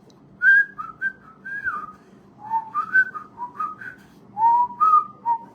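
A person whistles a casual, wandering tune while bicycling, bright phrases rising and falling in short bursts with small gaps, close and clear over a low background hum.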